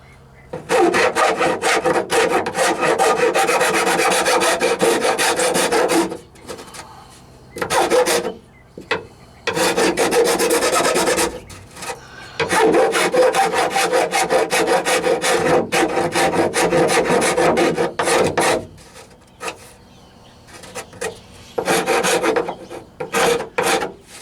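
Rough file rasping across cracked fiberglass on a Jeep Wrangler YJ hardtop, loud scraping strokes in long bursts separated by short pauses, close up with no talking.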